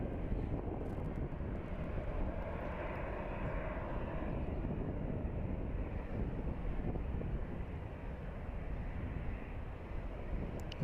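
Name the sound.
American Airlines airliner flight at Phoenix Sky Harbor airport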